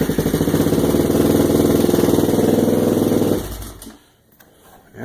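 A Chevrolet LTZ car engine with a center pipe exhaust, started with the choke on, idles loud and close with a steady, throbbing exhaust rumble for over three seconds before it cuts off. Faint noise follows.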